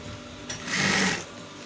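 Sewing machine stitching the inner pocket of a senator top, a short steady whirring run that swells louder in the middle then eases, close and alone with no talk.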